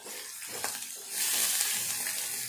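Sliced onion and green chili fry in oil in a pan, a soft crackle swelling into a steadier, brighter sizzle close by, with no voices.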